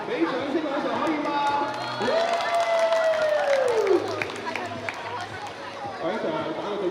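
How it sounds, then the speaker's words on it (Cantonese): Students clap and cheer in a school gym during a teachers-versus-students basketball match, a steady crowd roar with scattered applause beneath a commentator talking over a microphone. "俾掌聲兩場可以嗎？"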